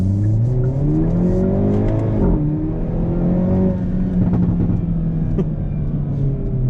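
Hyundai i30 N hot hatch accelerating hard, its engine note climbing and dropping through gear changes with a turbo whine, loud and close throughout with no talking.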